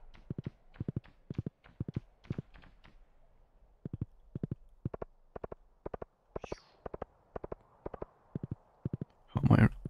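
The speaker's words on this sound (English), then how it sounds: "How am I riding this horse with no arms or legs?" Horse hooves clip-clopping in the Stardew Valley video game, a steady, evenly paced run of crisp, close taps that pauses briefly and resumes, with a louder burst at the end.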